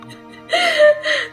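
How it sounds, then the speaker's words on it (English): A person yawns aloud while stretching, a rising breathy, voiced moan that swells and trails off, followed by a shorter second exhale, close and fairly loud during a fantasy tabletop role-playing session. "I did a big stretch and a yawn."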